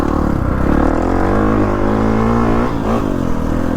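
A 2019 Kawasaki KX450F dirt bike engine holds a high, steady drone with a brief dip and rise in pitch near the end, close and loud.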